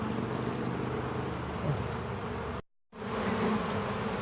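Honey bees swarm in a frenzy around a newly installed hive, a dense, continuous buzzing drone close by, briefly cutting out before resuming at the same intensity, with no talk.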